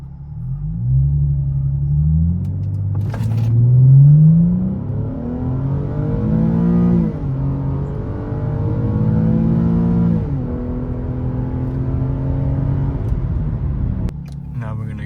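Infiniti G25x accelerating hard from 0 to 60 in drive, traction control off, heard from inside the cabin: engine note climbs through rising gears with a deep rumble, while a person talks over it.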